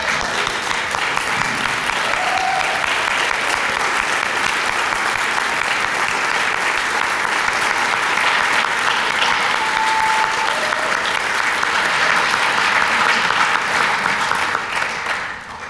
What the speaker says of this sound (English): And let's have a round of applause.